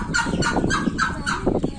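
Ducks on a farm give a run of rapid, close quacking calls, several harsh honks in quick succession with no talking over them.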